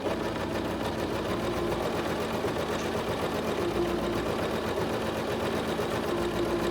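A Singer SewMate 5400 sewing machine bastes a skirt, its motor holding a steady, unbroken hum with a fine rapid needle chatter throughout.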